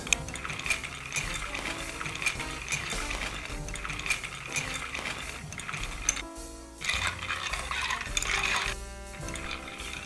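A cocktail with Gran Classico bitter is stirred in a mixing glass, and the spoon makes soft, rapid ice clinks and rattles that run steadily under background music.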